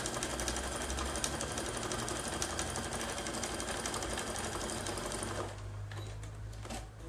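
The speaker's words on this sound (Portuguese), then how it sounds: "Aqui, vou passar uma costura que já vai segurar essa aba no lugar pra ela também não mudar enquanto eu ponho o forro." A sewing machine runs a continuous fast stitching clatter close up, sewing down the flap of a fabric notebook cover, then slows and stops near the end.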